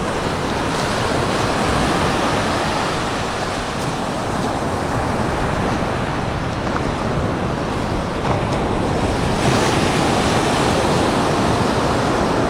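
Sea waves at Bagda beach near a river mouth, a constant loud roar of surf with wind buffeting the microphone, rolling swells rising and falling across the stretch, no voices.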